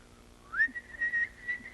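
A person whistles an imitation of a bird call, a rising note followed by a sustained wavering whistle, fairly close and clear.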